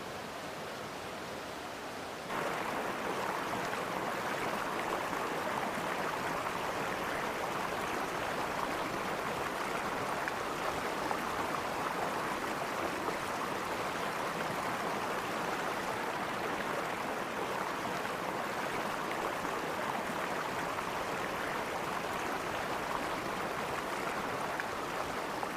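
A mountain torrent rushes over blocks and large stones, a dense, steady broadband roar that fills the scene from start to finish and swells in after a quieter opening, with no voices.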